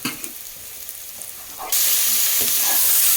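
Tomatoes are stirred into fried onions in a pan for a mutton curry. A soft sizzle with light stirring scrapes jumps abruptly into a loud, dense hiss as they hit the hot pan, close by, with no voices.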